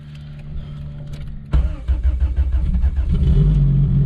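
A Honda Civic engine cranks and fires up on a new battery setup in cold, snowy weather, settling into a loud, steady idle after a quiet lead-in.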